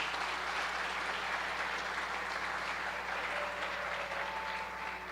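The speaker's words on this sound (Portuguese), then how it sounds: "Dá um forte aplauso a Jesus por isso," A church congregation applauds for Jesus during a sermon on the prayer of faith. The clapping is a sustained, even roar that stays loud and constant throughout, with a faint tonal hum beneath it.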